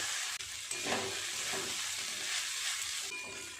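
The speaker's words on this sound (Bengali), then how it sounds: "খুব ভালো করে সমস্ত সবজি বাদাম সব কিছুর সাথে চিড়েটাকে মিশিয়ে নিয়েছি আর একটুখানি নেড়ে চেড়ে নামিয়ে নেব" Flattened rice pilaf with mixed vegetables and nuts sizzles and hisses in a hot pan while being stirred, a continuous close frying sound with faint scrapes and no talking.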